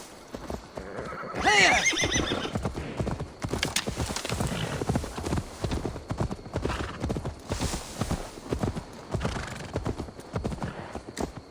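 A horse in the video game Assassin's Creed Valhalla neighs loudly near the start, followed by a long run of steady, clattering clip-clop hoofbeats that continue at a brisk rhythm with no speech.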